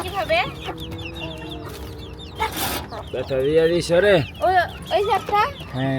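Chickens on a rooftop clucking in repeated short, nearby bursts, with someone talking over them.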